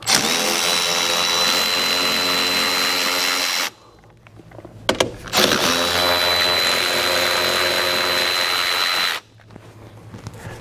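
A power tool spins off the 13 mm nuts holding the lower seat cushion in a 2006-2008 Dodge Ram truck, running loud and steady in two long bursts with a short clattery pause between them.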